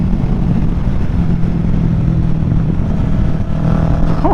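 A Kawasaki Ninja 650 motorcycle engine holds high revs in fifth gear, a loud steady drone heard close up with wind rush over it and a rising whine near the end.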